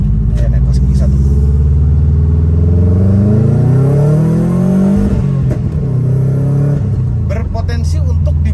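A turbocharged Subaru Impreza WRX pulls away in first gear, its engine note loud and close, climbing steadily in pitch before easing off, with people talking over it.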